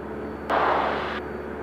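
A small airplane's engine drones steadily in flight as heard from inside the cabin, with a brief burst of louder rushing noise partway through and no talk.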